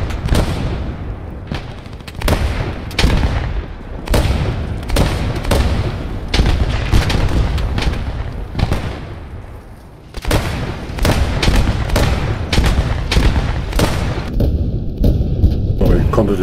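Gunfire and artillery booms from the World War II shooter game Post Scriptum, a dense run of sharp shots and heavy blasts through most of the clip, with voices talking over the combat.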